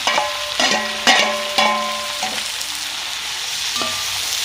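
About 1.5 kg of finely chopped onions drop into a pot of hot coconut oil with popped mustard seeds, giving a loud hiss and sizzle, with several sharp clanks from a spoon early on before the frying settles into a steady crackle.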